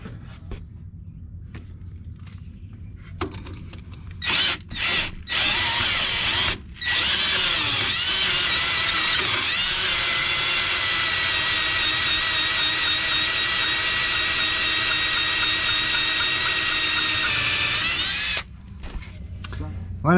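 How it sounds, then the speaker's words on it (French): Power drill tapping an M10 thread into a catamaran rudder shaft, a loud sustained whine running steadily for about eleven seconds after several short start-stop bursts, with brief pauses and faint speech around it. "le taraudage de la première mèche de safran est terminé. Donc j'ai fait du M10."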